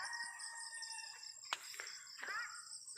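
In a rural yard, a rooster gives a few short clucking calls, fairly faint and distant, over a steady high insect drone with no talking.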